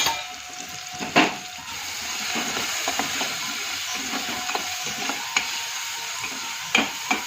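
Spices with tomato, turmeric, cumin powder, garam masala and red chili roast in a pan for an onion, potato and bottle gourd curry: a steady close sizzle with occasional sharp scrapes and clinks of stirring.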